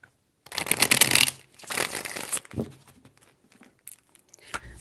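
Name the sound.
shuffling tarot cards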